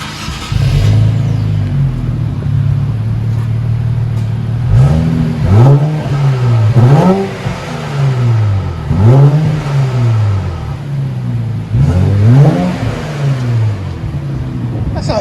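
Revving of a 2018 Infiniti Q60 with a 3.0L V6 and dual exhaust, muffler deleted: a deep idle rising into several loud, rhythmic throttle blips that fall back between pulls, recorded close.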